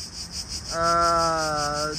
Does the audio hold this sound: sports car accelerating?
no